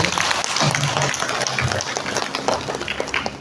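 Audience clapping for a speaker at a family-resilience Q&A session, a steady wash of hands filling the room for a few seconds, moderately loud with faint voices mixed in.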